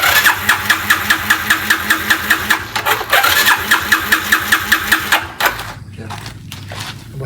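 A motorcycle engine with a wet spark plug cranks with a rapid, rhythmic chugging, sputters, then catches briefly before cutting out, loud and close.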